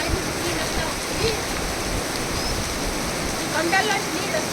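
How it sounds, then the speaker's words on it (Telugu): Water rushes steadily down from hillsides near a river, a continuous broadband roar that fills the whole moment without pause. "కొండల్లోంచి నీళ్ళు వస్తూ ఉన్నాయి పైనుంచి."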